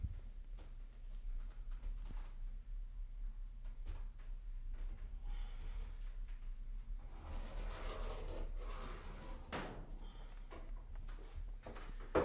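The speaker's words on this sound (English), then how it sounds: "I'm going to draw a straight line where I want the bracket to go, using a level" A pencil scrapes a straight line along a level on a wall while a floating shelf bracket is being marked out; faint, dry rubbing strokes, the strongest in the later part, over a quiet background hum.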